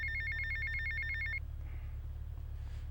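A payphone in GTA Vice City rings with a rapid electronic trill for about a second and a half, then cuts off, leaving a low background hum.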